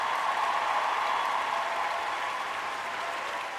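Canned applause from a soundboard button on a livestream, a steady dense wash of clapping that holds at an even level for the whole stretch and fades only slightly near the end, with no voices over it.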